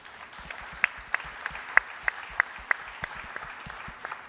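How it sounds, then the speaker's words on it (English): Conference audience applauding the speakers, a thin, fairly quiet patter of clapping with a few louder individual claps standing out in an uneven rhythm. "I think we should give a round of applause for all of them."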